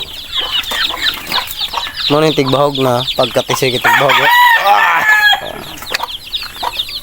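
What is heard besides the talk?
derby gamefowl roosters clucking and crowing on farm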